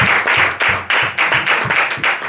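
An audience claps in a steady, fairly close round of applause with a pulsing rhythm, no talk over it.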